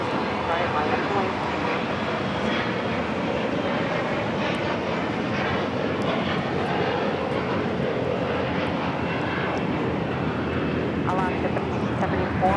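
Airplane taking off at Los Angeles airport, a loud, steady engine roar that holds throughout, with tower radio chatter running underneath.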